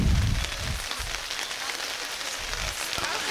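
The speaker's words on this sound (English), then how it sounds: "And this just brutal downpour." Heavy downpour drenching an outdoor boys' lacrosse game, a steady broadband hiss of rain hitting surfaces throughout, fairly loud and continuous with low rumbles near the start and end.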